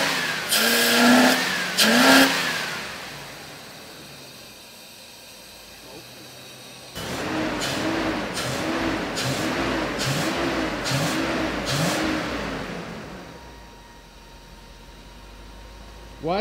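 A Nissan President engine revs after its first start following fuel tank work: two sharp blips, a quieter idle, then a run of five or six quick revs in a row before settling back, with faint voices nearby.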